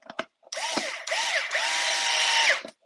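A power screw gun drives screws into an RC car chassis kit: short whirring runs that rise and fall, loud and close, with a few clicks between them.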